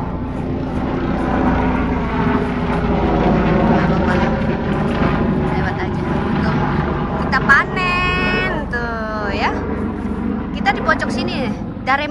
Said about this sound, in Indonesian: Ada pesawat lewat.